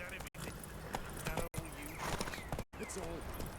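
Hooves of the horse from the video game The Witcher 3 clop at a trot beneath a voice, with the footfalls partly masked by the talk.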